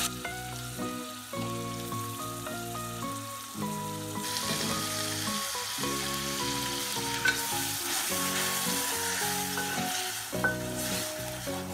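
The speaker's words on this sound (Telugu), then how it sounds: "మనం క్లీన్ చేసి పెట్టుకునేది ఈ బోటి అనేది ఇప్పుడు వేగిన దాంట్లో వేసేసేయాలి." Cleaned goat tripe (boti) dropped into hot tempering in a pan, a loud continuous sizzle and frying crackle throughout with stirring, under music and without speech.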